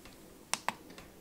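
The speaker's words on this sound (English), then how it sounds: "all we've got to do is cycle through using the arrow keys" Two sharp, close clicks about a sixth of a second apart as arrow buttons are pressed on the LCD controller of a Chinese diesel heater, with a fainter tap after them against a quiet background.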